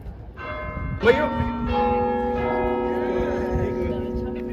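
A church bell strikes loudly and rings out with a long, humming resonance, followed by further overlapping tolls that hang in the air.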